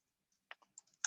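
Several quick, light keystrokes on a computer keyboard as a Kubernetes command is typed, faint, close clicks in an uneven burst with silence between.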